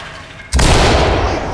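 A C2 breaching charge detonates in the tactical shooter Ready or Not, a single sudden loud blast after a quiet moment, followed by a sustained roaring, rumbling tail that fills the rest of the moment.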